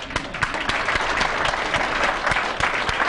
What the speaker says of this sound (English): But all those that played it, clap your hands high.